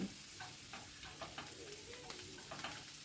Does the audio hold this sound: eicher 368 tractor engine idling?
no